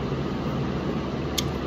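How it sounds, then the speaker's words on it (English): An electric fan runs steadily in a hot room, a close, constant whooshing hum with a low rumble and no other sounds over the short stretch. "Sorry about the fan, but it's hot."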